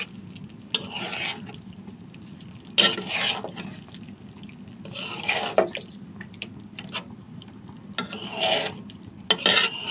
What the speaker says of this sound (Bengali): মশলাটা মাছে মিক্স করে নিচ্ছি।